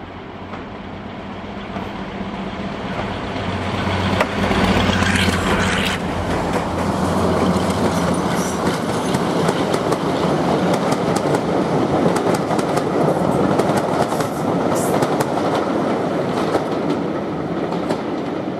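Maybach diesel locomotive D832 passes Windley Bridge near Hazelwood with a train: a rising engine roar gives way to loud, steady wheel rumble and rhythmic clatter of the carriages rolling by close at hand, with no talking.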